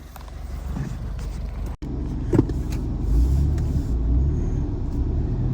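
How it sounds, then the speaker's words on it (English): A car drives through a quiet residential neighborhood, its engine and road rumble a steady close low drone, with a sharp brief dropout and a small clunk partway through. "let's take a drive around the neighborhood right now"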